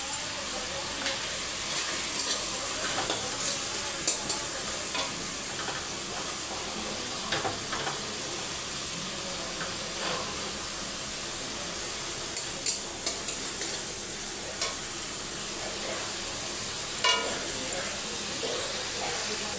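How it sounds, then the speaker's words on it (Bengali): Ginger paste, cumin and coriander fry in a pan for a coconut and dried pea ghugni, giving a continuous moderate sizzle with frequent spatula scrapes and light clinks as the mixture is stirred. "আদা জিরেটা আমার ভালো ভাজা গেছে"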